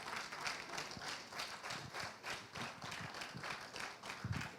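Audience applause at a trainer workshop, a steady wash of many hands clapping at moderate distance with uneven bursts and a few louder claps near the end.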